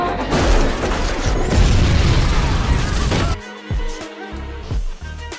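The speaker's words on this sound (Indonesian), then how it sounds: "Jack menabrakkan mobil ke pagar jembatan, mobil meledak" A car explodes after crashing into a bridge railing in a movie scene, a loud sustained roaring blast with crackling debris, then abruptly cutting to lower rumbling thuds and mechanical clatter.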